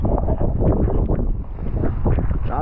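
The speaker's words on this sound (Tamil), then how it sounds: "காற்று." Wind roars steadily across the microphone outdoors at the Taj Mahal in Agra, during a motorcycle ride from Indore: a loud, continuous low rumble with no break and no clear voices.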